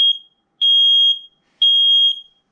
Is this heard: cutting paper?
no